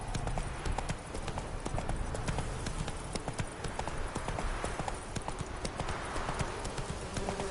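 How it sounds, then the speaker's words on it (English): Horse hooves clip-clop at a steady walking rhythm in The Witcher 3 video game, close and fairly loud throughout, with many evenly spaced footfalls over a constant ambient background. "Whoa there, Roach."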